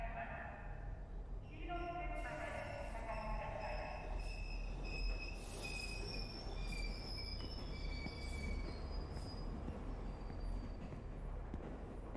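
Train arriving at a dirty station, wheels squealing loudly with sustained high metallic screeches and shifting tones over a steady rumble, lasting throughout as the cars roll in.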